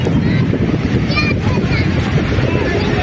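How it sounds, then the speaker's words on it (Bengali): Large ocean waves break and surge at Puri beach. The continuous rumble and wash is mixed with wind buffeting the microphone, and a voice is faintly present. "বড় ঢেউ আসছে"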